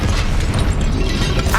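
Incendio fire spell cast in Hogwarts Legacy, a loud, dense burst of fiery, explosive rumble that stays thick and sustained across the moment, with a faint voice underneath.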